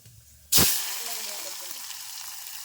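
Chopped onion and garlic dropped into hot oil, with a sudden loud sizzle burst that settles into a steady, close frying hiss.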